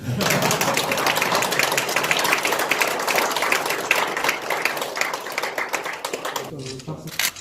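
Dense, steady applause from a crowd celebrating an investment agreement signing between Lemon Co., Gyeongsangbuk-do and Gumi City, filling the room for about seven seconds before tapering into scattered claps, with voices underneath.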